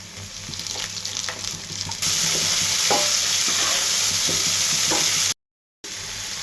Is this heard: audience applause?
no